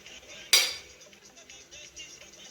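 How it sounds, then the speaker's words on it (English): A serving spoon scoops achu onto a plate, one sharp clink of utensil on plate followed by soft scraping and faint handling sounds close by. "So just take a scoop, put on the plate, a scoop or two"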